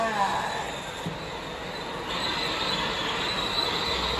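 A steady metallic screech of roller coaster wheels on track grinds along close by at Dorney Park, with a rushing mechanical roar underneath as the train brakes to a stop.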